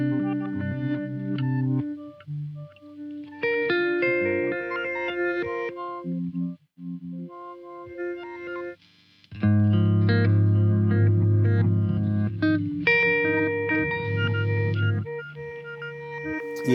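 Electric guitar played through combined delay and reverb effects in a looping setup, melodic notes and chords ringing out with echoing repeats and a wash of reverb, a brief drop near the middle before a fuller, louder layered passage.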